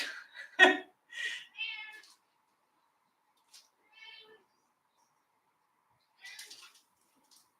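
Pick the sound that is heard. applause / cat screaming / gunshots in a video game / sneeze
cat screaming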